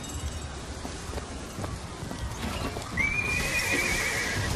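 A mechanical horse in BioShock Infinite clip-clops at a steady trot, then lets out a clear, bright neigh near the end, close and moderately loud.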